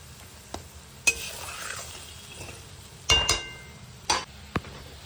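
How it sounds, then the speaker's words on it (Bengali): Ground coriander, turmeric and salt being stirred and sautéed in a pan, with soft sizzling under sharp scrapes and clinks of a spoon against the metal at irregular intervals, close up and without talk. "ধনের গুঁড়ো, হলুদ, নুন। ভালো করে কষিয়ে নেব এবার।"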